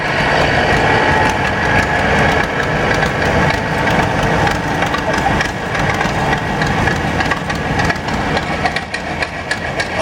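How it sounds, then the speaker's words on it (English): A 1969 Massey Ferguson 180 diesel tractor idles nearby at a two-cylinder club show, its engine a loud, steady, rough rumble running the whole time. "A 1969 180 Massey diesel"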